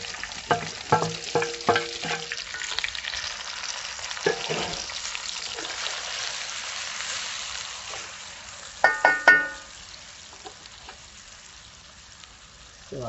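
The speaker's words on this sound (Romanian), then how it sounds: "Și în același ulei punem legumele. Țelina, morcovul, ceapa și tapia." Celery, carrot, onion and pepper fry together in oil, a low steady sizzle broken by several sharp clattering knocks of utensils on the pan, loudest near the end, with no talk.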